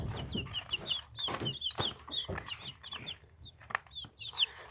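Chicks peep and cluck in a rapid, busy chorus, with bright high calls overlapping and recurring throughout at close range, with no talking.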